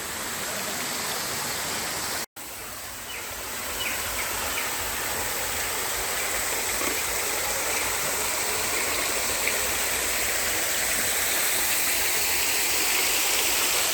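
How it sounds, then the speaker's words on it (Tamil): Small artificial waterfall and stream at a Mettupalayam water park, a steady, loud rushing of falling water that runs continuously after a brief cut near the start. "இந்த இடத்துல வந்து ஒரு சின்ன அருவி மாதிரி பண்ணியிருக்காங்க."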